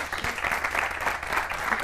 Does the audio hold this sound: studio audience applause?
yes